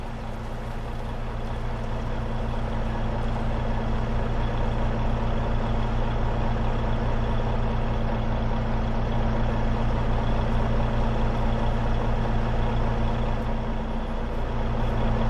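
A truck in Farming Simulator 22 drives along with a steady, droning diesel engine hum holding a constant low pitch throughout, loud and close with no talk.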